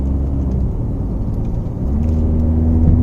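Ford Figo automatic hatchback switched into sports mode and accelerating, a steady loud engine and road rumble from inside the cabin that swells slightly in the second half as it pulls harder.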